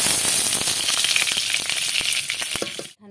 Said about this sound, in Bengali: এবার আমি কড়াইতে দিয়ে দেবো কিছু পরিমাণে ঘি